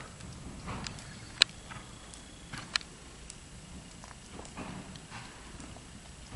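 Hooves of a ridden horse in an arena: faint, steady clip-clop footfalls with a couple of sharper knocks, heard from a distance and alone.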